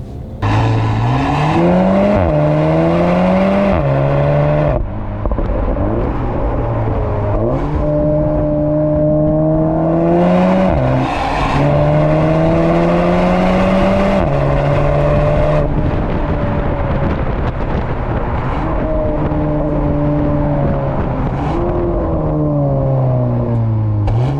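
A tuned 350 hp Cupra Ateca engine revs loudly over and over, pitch climbing and dropping in repeated surges, close and dominant throughout.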